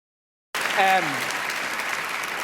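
Awards ceremony audience breaks into applause for a director, starting abruptly with a brief voice over the onset, then a steady, full roar of many hands clapping.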